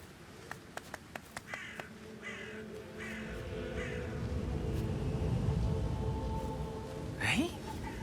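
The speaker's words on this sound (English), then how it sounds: "I'll never get rid of those stupid birds." Crows cawing on the Dartmoor estate in Hitman 3, a series of sharp caws and wingbeat-like clicks early on, then a rising wash of outdoor ambience with another loud call near the end.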